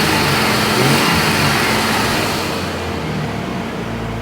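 A freshly installed engine runs steadily in a Jeep XJ, a loud, smooth, even drone with a slight rev early on that settles into a steady idle-like hum, heard up close with no talking.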